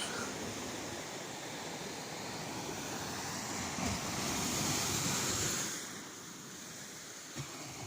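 Choppy sea waves at Teignmouth beach wash and roar steadily, with a broad swelling surge midway before easing back to a constant rush, mixed with some wind buffeting on the microphone.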